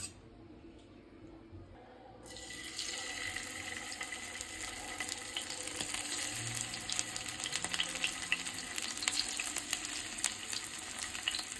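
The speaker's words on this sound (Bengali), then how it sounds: "তেলটা ভালো করে গরম হয়ে গেছে, এবার দিয়ে দেবো মেখে রাখা মাছগুলো।" After a short quiet start, loud continuous sizzling of marinated fish frying in hot oil begins and crackles steadily to the end.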